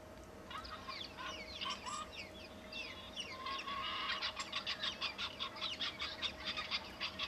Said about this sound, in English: we've got our barnyard track playing in the background there